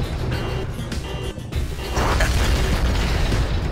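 Red Faction 2 explosion, a loud dense rumbling blast that swells midway and stays roaring to the end, heavy and close amid battle noise.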